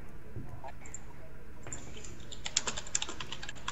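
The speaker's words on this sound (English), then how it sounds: "What are you typing?" Quick taps on a computer keyboard patter in short irregular bursts, faint and close, over a low steady background hum in a Garry's Mod game session.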